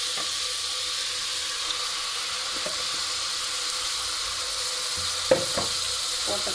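Mutton sizzles in ginger-garlic paste in a home kitchen pan, giving a steady, moderately loud hiss broken by a few clinks of a utensil near the end.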